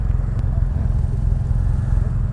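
BMW F800 R motorcycle in restricted (power-limited) form being ridden, a steady low engine drone with road and wind rumble, continuous and close throughout.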